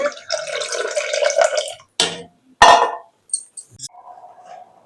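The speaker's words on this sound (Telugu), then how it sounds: "చింతపండు రసం పోస్తున్నానండి" Tamarind juice, made from soaked tamarind, is poured into toor dal for a sour dal soup, giving wet gurgling pours and splashes in separate bursts, followed by a few drips and a faint trickle.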